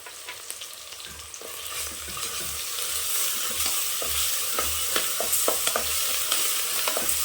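Onions sauté with salt, ginger and garlic in hot oil for veg biryani, a continuous close sizzle that grows slightly louder, punctuated by scraping stirs of a spoon against the pan, with no voices.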